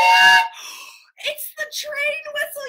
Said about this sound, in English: train whistle, you guys.